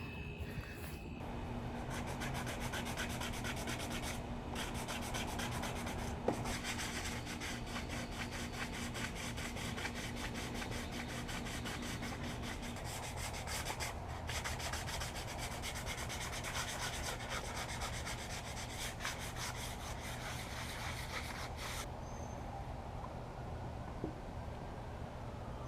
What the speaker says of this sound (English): all I need to do really left is sand this wood filler